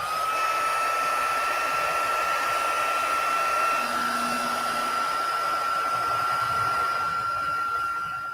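A heat tool blows steadily to heat up a craft piece, a loud, continuous whining fan drone close by that holds without break.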